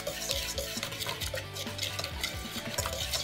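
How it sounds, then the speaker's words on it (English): A whisk beats baking soda and fine salt in a mixing bowl, rapid scraping strokes clattering steadily against the sides, close and fairly loud, with no one talking. "So I'm just gonna whisk this together."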